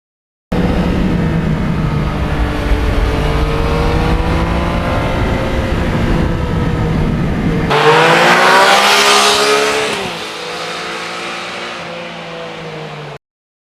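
A 2020 Yamaha MT-09 motorcycle on a winter ride, its engine droning loud and steady with rising and falling pitch as it accelerates, surging sharply near the end before easing off.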